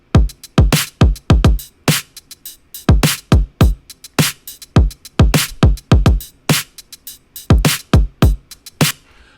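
An EQ'd kick and snare drum pattern plays together in a steady, busy groove, punchy kicks alternating with crisp snare cracks, loud and close with no talk.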